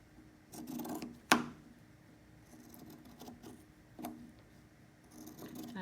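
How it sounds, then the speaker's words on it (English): Scissors cut off the frayed edge of a piece of fabric with a handful of soft, close snips and rustles, one sharp crisp cut standing out among them. "We're going to cut the edge off."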